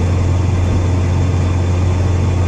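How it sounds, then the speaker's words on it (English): Close, steady low drone from a Ford Fiesta ST with an aftermarket exhaust and 2J intake, a constant loud engine hum running unbroken throughout. "you'll probably hear my exhaust more than the intake"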